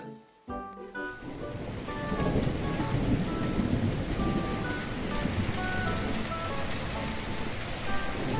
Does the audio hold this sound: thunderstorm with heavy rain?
yes